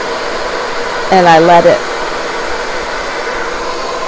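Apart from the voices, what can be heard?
hair dryer blowing on warm setting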